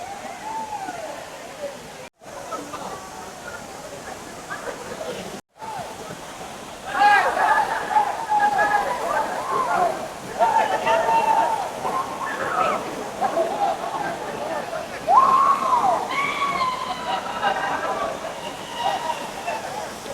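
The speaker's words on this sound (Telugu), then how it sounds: "మనకి వాటర్ ఫాల్ నుంచి వచ్చిన వాటర్ వచ్చి అయితే మనకి ఇట్లా వెళ్ళిపోతుంది కిందకి" Agaya Gangai waterfall sends water splashing down in a steady, broad rushing wash that runs through the whole stretch, while a voice talks over it from the middle onward.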